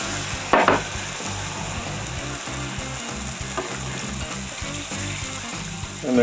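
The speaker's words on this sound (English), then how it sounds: "Now we're going to come in with our 3 cups of milk." Milk poured into browned flour and ground beef in a hot pan for creamed beef gravy gives a steady sizzling frying noise with a soft splash near the start. No talk is heard over it.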